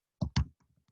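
A computer mouse clicks a login button: two sharp, close clicks in quick succession, followed by a few faint ticks in an otherwise quiet room.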